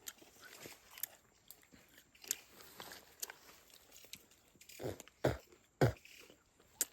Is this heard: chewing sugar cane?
yes